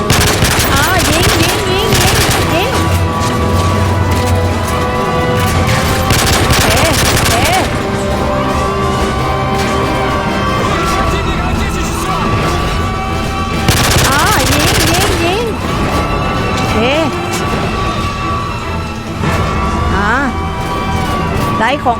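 Video game gunfire from Call of Duty Modern Warfare 3, with dense bursts of shots over a busy, continuous game soundtrack with sirens and effects, partly under a player's talk.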